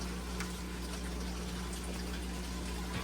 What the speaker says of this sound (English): So with the flick of a switch, I can automatically drain the water.